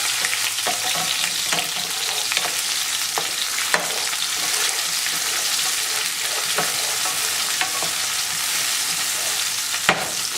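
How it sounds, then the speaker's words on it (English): Onion fries in a pan for a vegetable quinoa salad, giving a loud, continuous sizzle broken by occasional spatula clicks and stirring scrapes, with no one speaking. "now we'll add the onion. We're going to want to let the onion go till it gets translucent."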